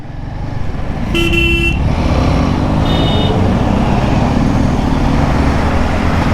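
Busy road traffic near Mandi on the Bhuntar airport route in India, with loud nearby engine rumble and two short car horn honks, one long blast then a brief toot, over constant traffic noise.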